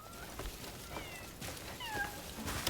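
Cat people in the video game Crimson Desert give several short, clear meows and mewing calls over a steady game ambience, with a couple of rising meow cries close together.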